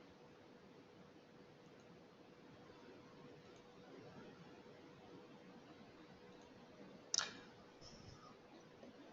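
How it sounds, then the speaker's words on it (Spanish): A computer mouse double-clicks during a software install on a Windows PC, two quick sharp clicks close together standing out once over a faint steady hiss. "doble clic"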